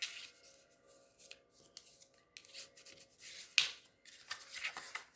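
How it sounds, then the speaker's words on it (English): Scored cardstock for an Easter pop-up card being folded and creased by hand, with quiet crisp crackles, rubs and paper snaps close up. "I'm going to fold the second line to the back."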